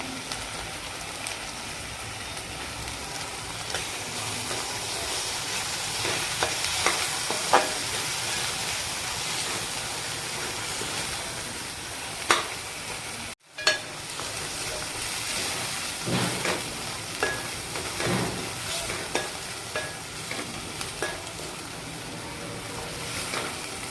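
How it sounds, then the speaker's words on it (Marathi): Spices and kasuri methi are sautéed in oil with a ground paste for chole masala, giving a continuous hissing sizzle punctuated by occasional spoon scrapes and taps, steady and close, with a brief break midway. "यामध्ये कस्तुरी मेथी टाकून ती पण चांगली परतून घेऊ"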